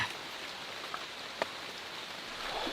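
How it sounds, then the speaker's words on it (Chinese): Light rain falls in a Borneo jungle with a soft, steady hiss. A few drops tap nearby, and the whole sound stays faint and even, with no voices. "现在下小雨，问题不大。"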